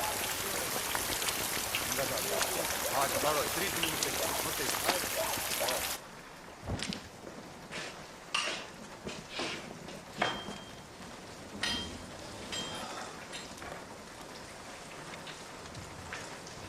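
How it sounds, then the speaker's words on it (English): Heavy rain pours in a dense steady hiss, then drops to lighter rain with scattered distinct drips and splashes on surfaces, with people talking in places. "This rain don't seem to stop, does it,"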